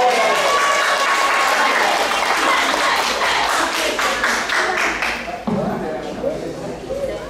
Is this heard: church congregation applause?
yes